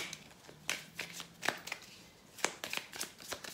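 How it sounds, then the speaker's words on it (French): Tarot deck shuffled by hand in a series of quick crisp riffles and card slaps, close and moderately loud, with irregular bursts and short pauses between them. "je vais juste neutraliser un peu ces cartes"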